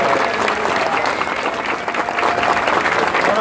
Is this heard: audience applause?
yes